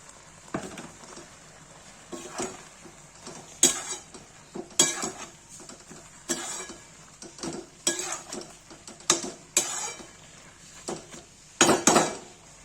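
A spoon repeatedly scrapes and clinks against a pan while bitter gourd and eggplant are stirred, with irregular close metallic knocks and brief pauses between strokes.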